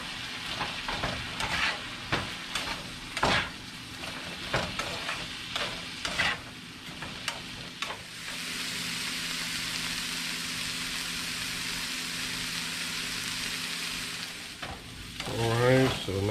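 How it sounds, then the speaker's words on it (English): Peppers added to a pan with onions sizzle steadily while a utensil scrapes and stirs in repeated strokes at first, then the frying settles into a continuous close hiss with no voices. "Peppers. We'll give those a quick stir."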